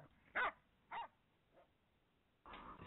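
Several dogs bark in short bursts: two loud barks, a fainter third, then a sustained burst of barking near the end, close by in a home with no talk.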